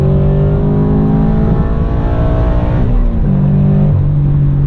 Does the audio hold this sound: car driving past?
yes